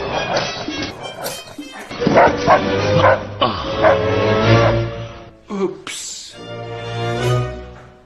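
Dog barking and yipping in loud, close bursts, some stretched into whiny yelps, broken by short pauses; it may be a voice imitating a dog in a comic skit.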